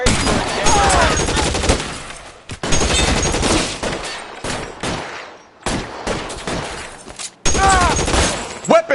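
Video game gunfire in bursts separated by brief silent gaps, loud and close, with scattered shots and voices mixed in.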